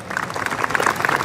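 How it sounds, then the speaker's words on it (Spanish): Brief burst of crowd applause honoring the flag at a Coca Raymi 2019 ceremony, steady dense clapping from many hands. "¡Aplausos a nuestra bandera!"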